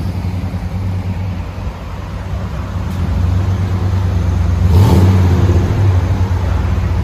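A Chevy Silverado 5.7L V8 with a dual-in single-out exhaust revving, a loud steady droning engine note that swells into a stronger rev toward the end, close and alone.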